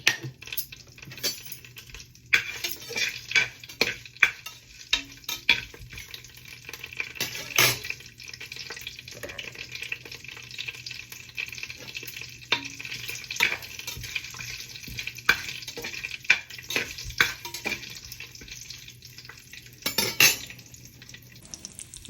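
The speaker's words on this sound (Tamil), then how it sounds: "நான் நெய்யில் வதக்கி விட்றேன்" Rice and chana dal being sautéed in ghee in a pan for Kongu-style rice, a low steady sizzle broken by repeated sharp scrapes and clinks of a metal spoon, close and without talk.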